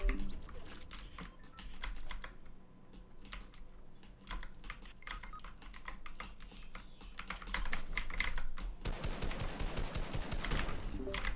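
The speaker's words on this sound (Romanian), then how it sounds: "Azi s-a ascultat tastatura, atâta vă zic." Rapid computer keyboard typing fills the whole stretch, dense clattering keystrokes close to the mic that grow louder and busier toward the end, with no talking over them.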